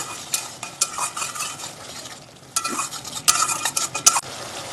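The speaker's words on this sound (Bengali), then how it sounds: "এটাকেও এবার ভালোভাবে তেলের সাথে নাড়াচাড়া করে নেব" Pabda fish is stirred in oil with turmeric and chili powder, close-up spatula scrapes and clatters against the pan in irregular bursts over a faint sizzle, with a short quiet lull midway; nobody speaks.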